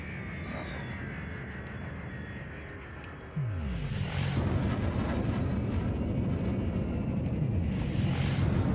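A spaceship's engines boost away from a station in the Elite Dangerous game, a dense roaring rumble that jumps louder partway through with a falling whoosh, then holds a sustained heavy thrust.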